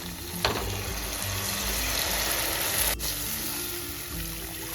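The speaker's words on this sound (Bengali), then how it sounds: "এইবার আমি এখানে দিয়ে দেবো একদম অল্প পরিমাণে উষ্ণ গরম জল" Warm water poured into a Bengali koi fish curry gravy, a continuous splashing, sizzling pour over a steady cooking background, with a small clatter at the start.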